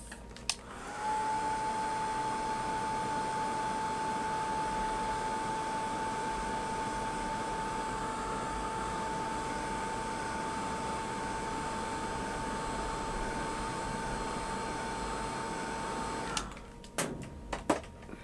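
A hair dryer runs steadily for about fifteen seconds with a constant whirring hum and whine, drying paint on a hand-painted plaque, then switches off and a few faint handling clicks follow.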